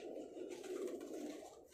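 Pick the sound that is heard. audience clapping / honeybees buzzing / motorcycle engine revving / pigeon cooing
pigeon cooing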